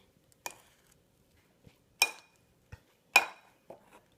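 Pizza dough being cut and mixed with a slicing motion: a few sparse, sharp clinks and scrapes of a utensil against a bowl, spaced out over several seconds, close and otherwise quiet.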